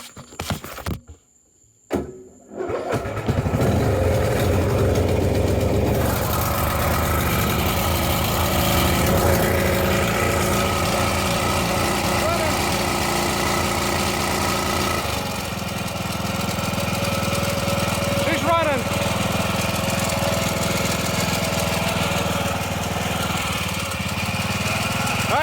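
A Husqvarna LTH 18538 lawn tractor engine, parking brake on and intake blocked, gives a couple of short cranking bursts, then catches and runs loud and steady close by with an uneven, knocking edge.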